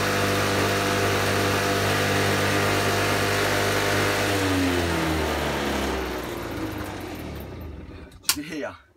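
A two-stroke moped engine with a freshly tuned carburetor runs at a steady, constant high-pitched drone, then drops away toward the end, leaving a few brief clicks.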